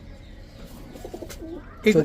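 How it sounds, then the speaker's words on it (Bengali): A silver female pigeon coos. Low, faint murmurs sit under background rustle, and a louder, clearer coo comes at the end. "এটা একটা মাদি কবুতর ভাই, সিলভার কবুতরটা"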